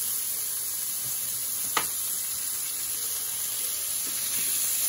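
Chopped meat sears on a hot stovetop griddle with a steady, close, broadband sizzle throughout, one brief scrape or tap partway through, and no talking.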